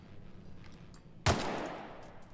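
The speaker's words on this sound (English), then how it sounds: "What happens if I shoot Parvati?" A single sharp gunshot, fired at a companion in the video game The Outer Worlds, cracks out abruptly partway through, followed by a lingering ringing tail over quiet background.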